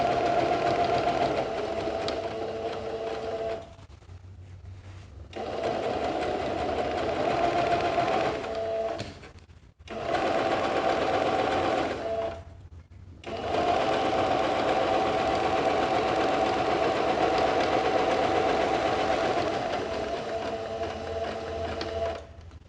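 A sewing machine stitches a fabric organizer pouch, running steadily in long bursts with short pauses between runs, loud and close with no talking.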